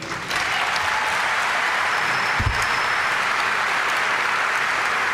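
Steady applause from a large crowd at a university commencement, a dense wash of clapping that holds evenly from start to finish.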